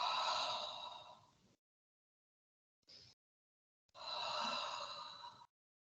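Three breaths are released during a Pilates exercise, a participant peeling back onto a wall: two long, airy sighing exhales framing one very short puff, each separated by clear silence and heard close up.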